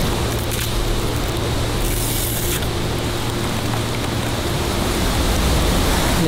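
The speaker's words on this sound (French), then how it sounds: "Il pleut énormément." Heavy rain pours down steadily in the Tahiti jungle, a dense, continuous hiss close by and loud throughout, with no talk.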